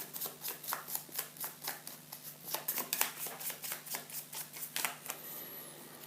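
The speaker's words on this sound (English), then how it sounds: "Shuffle together the standard event cards" Standard event cards for the board game Dawn of the Zeds are shuffled by hand, producing a regular series of crisp riffling bursts, about two per second, close and clear, with a brief pause near the end.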